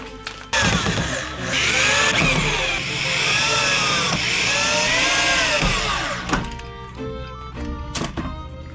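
A power drill whirs loudly into wood, its motor pitch rising and falling as it bites in, then stops with a few clunks at the end.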